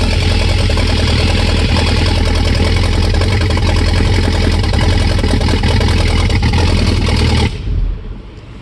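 A Mazda RX-7 rotary engine runs at a loud, steady idle right after starting, with a dense, continuous drone that holds until it cuts off abruptly near the end.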